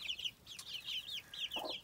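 Young chicks and hens peep and cluck faintly in a backyard coop, with a run of thin, high chirps repeating steadily and a brief lower cluck near the end.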